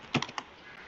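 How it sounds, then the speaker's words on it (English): A few quick computer keyboard keystrokes while a git config command is typed, four close clicks in a short burst followed by quiet. "Then here you type in your GitHub username for the account that you created."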